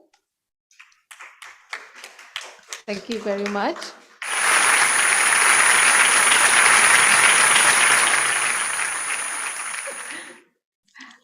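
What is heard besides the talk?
audience applause after a seminar talk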